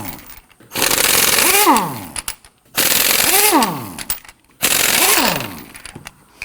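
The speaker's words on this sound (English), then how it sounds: "let's go ahead and use our 21mm socket to loosen and remove these lug nuts." Three loud pneumatic impact wrench bursts loosen 21mm lug nuts on a Nissan Murano front wheel, each rattling hammer run ending in a rising whine, separated by short pauses.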